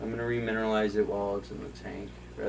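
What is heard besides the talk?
No everyday noises stand out.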